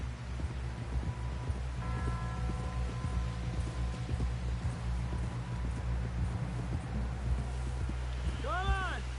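Horse hooves clip-clop steadily through a Red Dead Redemption scene, running under a continuous musical score with a brief whinny-like rising tone near the end.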